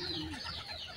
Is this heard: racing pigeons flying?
yes